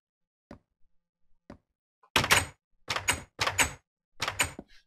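In Minecraft, a wooden door is placed with two faint taps, then swings open and shut several times, giving loud hollow creaking thumps separated by short pauses.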